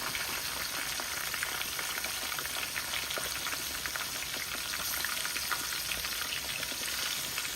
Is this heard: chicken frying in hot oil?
yes